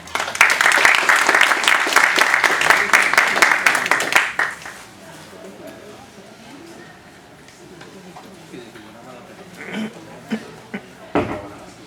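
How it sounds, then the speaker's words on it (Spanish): An evening audience at a talk on regulations bursts into loud, dense applause to welcome the speaker, then stops abruptly. Quieter room noise and a few scattered sounds follow. "lo recibimos con un fuerte aplauso"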